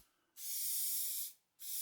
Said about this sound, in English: I'm going to spray on a single coat of paint that I can actually scratch through to make the marks